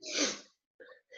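A single sharp sneeze bursts out close and loud, followed by a short pause and a couple of faint breathy sounds afterward.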